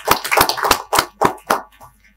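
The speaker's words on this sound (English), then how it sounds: "Give him a big round of applause once again." Applause at a welcome program in Nepal, a handful of loud, close, separate claps that slow down and fade out after about two seconds, with no crowd wash behind them.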